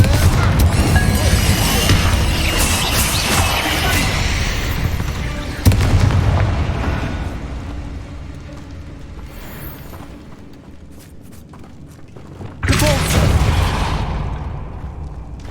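In a Harry Potter video game, a Confringo blast spell goes off as a loud, roaring explosion with a long rumbling tail. A second heavy boom follows later, and there are faint effects between the two.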